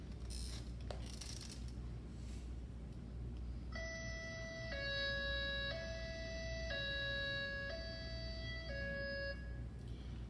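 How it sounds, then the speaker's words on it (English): High-low evacuation siren tone used on emergency vehicles in Sonoma, Napa, Solano and Lake counties, played back through a speaker: a clean two-note wail alternating about once per second for several seconds after a quiet, noisy stretch. "The high-low siren is something that we've implemented in Napa, Solano, and Lake counties, as well as Sonoma County."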